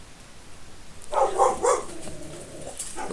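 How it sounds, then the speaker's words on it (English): A dog barks several times at close range, a short burst of loud barks followed by quieter yips, while a farming video game plays in the background. "my dog's just gone nuts"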